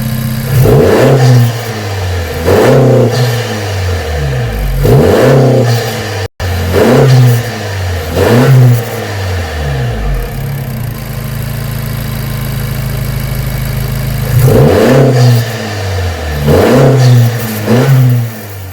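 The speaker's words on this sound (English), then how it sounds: "we're going to fire this up and turn it on. I'm going to rev it up." A 2018-2020 Honda Accord engine fitted with an AEM intake revs hard several times, roaring up and dropping back to idle between bursts, loud and close, with no talking.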